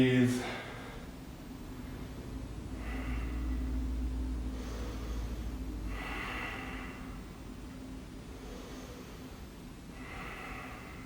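Slow, deep breaths drawn in and let out during a hip-opening yoga stretch, soft and close, rising and falling in a few long waves with a faint low hum underneath.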